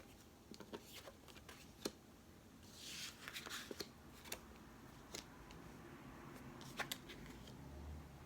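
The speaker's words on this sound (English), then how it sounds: "I'm going to flip the cards, but I'm going to do so in silence." Tarot cards are flipped and laid down in near silence, with faint, close, irregular flicks and soft slaps, a brief papery shuffle partway through, and quiet rustling between.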